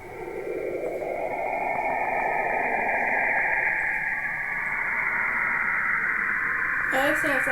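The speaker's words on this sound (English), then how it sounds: "During this expedition, the spacecraft has been detecting intense radio emissions from the planet." Saturn's radio emissions, detected by a spacecraft and compressed into the audible range, form a steady eerie hiss and hum with a sustained tonal band, ending in a brief chirping burst.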